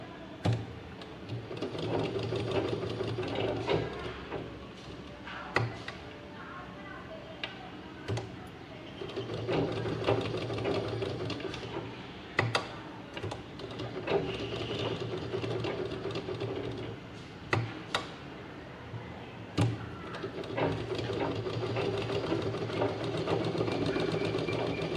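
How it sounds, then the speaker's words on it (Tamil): Sewing machine stitching around all four sides of layered fabric pieces for a school or pencil pouch, a close mechanical clatter with rapid needle rhythm running in bursts separated by short stops and clicks. "மேலே வச்சு 4 பக்கமும் ஒரு தையல் போட்டு வச்சுக்கலாம்."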